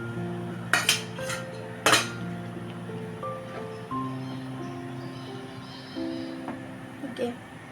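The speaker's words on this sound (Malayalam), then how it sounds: "ഫ്രൈ ചെയ്ത് വെച്ചിട്ടുള്ള ചിക്കൻ ആഡ് ചെയ്തു." Fried chicken pieces go into a cooking pot for butter chicken, with a few sharp metallic clinks and clatters of a utensil against the pot early on, then softer stirring and scraping beneath a steady background hum.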